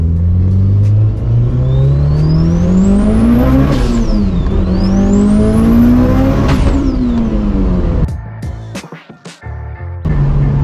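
A boosted car engine rips hard through second gear, its loud, close pitch climbing in two long revving sweeps before cutting off abruptly into a sputtering, hissing lull and then picking back up.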